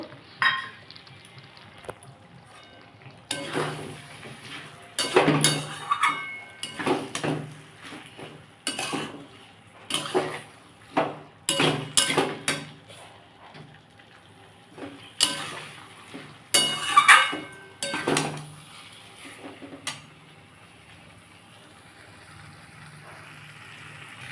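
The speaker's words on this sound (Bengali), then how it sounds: "আমি এবার চিংড়ি মাছটা দিয়ে একটু নাড়ি কুচিয়ে নেবো" Prawns being stirred in a cooking pan with a metal utensil, a string of irregular clinks and scrapes against the pan separated by quiet gaps, close and fairly crisp, with no talk.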